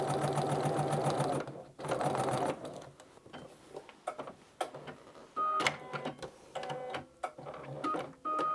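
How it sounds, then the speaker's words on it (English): A sewing machine stitches a dress skirt seam with a backstitch, running in short bursts of rapid mechanical whirring separated by pauses and small clicks. It sounds close, with no talk. "we're gonna stitch until we get to that first dot, making sure to not go past, and we're going to backstitch"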